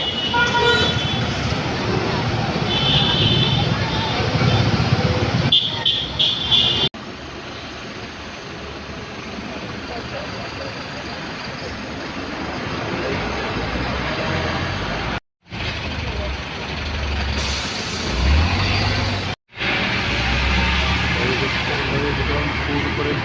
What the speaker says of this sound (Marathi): फुल ट्रॅफिक जाम आहे दादरला.